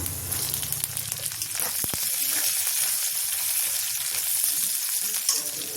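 Steady, loud sizzling and frying of green chillies in a hot pan while making paneer chilli, with a brief clink near the start and continuous crackling hiss throughout.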